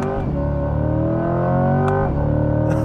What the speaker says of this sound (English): This engine just wants to keep revving.